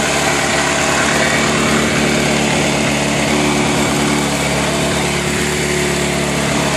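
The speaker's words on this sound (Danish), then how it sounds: "Motoren lyder sådan set okay" An engine idles steadily just after its first start-up, a constant, fairly loud mechanical drone with a busy high whine, uninterrupted and without voices throughout.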